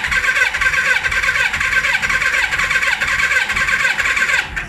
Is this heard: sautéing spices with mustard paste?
no